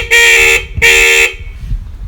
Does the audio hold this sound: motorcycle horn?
yes